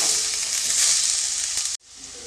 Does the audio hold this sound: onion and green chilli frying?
yes